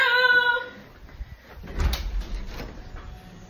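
A door opens or closes with a dull thud and low rumbling movement, heard after a brief voice at the start.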